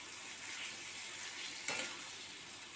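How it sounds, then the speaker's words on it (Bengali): Potatoes and onions frying in a pan with bay leaf and cumin, a steady soft sizzle with one brief burst of louder crackling, faint and close. "আর দেখো তেজপাতা ফোড়ন দিয়ে দিয়েছি, জিরে ফোড়ন দিয়ে আলুটা পেঁয়াজটা সুন্দর করে কষিয়ে নিয়েছি।"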